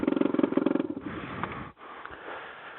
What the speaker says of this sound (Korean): 요 모델은 지금 에로우 챔버가 꼽혀 있어서 배기음이 조금 더 날카롭죠